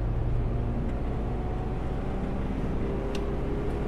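A passing car accelerates along the road near a 2CV, a steady broadband engine and road roar filling the whole stretch at constant loudness, with no talk.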